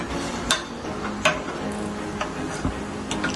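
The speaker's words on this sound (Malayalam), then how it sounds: "ഹൈ ഫ്ലെയിമിൽ വെച്ച് ഇളക്കി കൊടുക്കാം" Chicken biryani in a cooker pot stirred over a high flame, a few sharp scrapes and clicks of a spoon against the metal over a low, steady sizzle.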